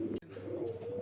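Fancy pigeons at a farm coo in a low, continuous rolling murmur, close by, broken once by a brief sharp knock.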